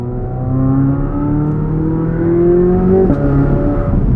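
A 2023 Chevrolet Corvette Z06 engine revs steadily and loud while driving, pitch climbing through the gear, with a quick shift near the end before pulling again.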